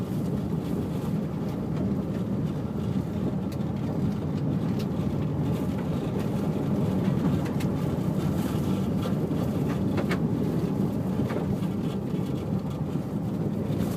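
A car drives over a bumpy gravel road, a loud continuous rumbling road noise with rough crunching texture and some wind buffeting, no talking.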